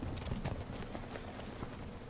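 Horse hooves clip-clop steadily in the Legend of Khiimori video game, a soft, continuous walking rhythm heard near under a dense hiss of game ambience, with no talk.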